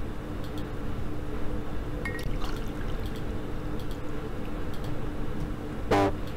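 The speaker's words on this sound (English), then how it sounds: "Now add water to fill it halfway in a way that water is rotating in it" Water is poured into a coffee maker with a copper fill line, giving a steady, close rushing stream for several seconds. A few faint clinks sound along the way and a brief splashy burst comes near the end, with no talk.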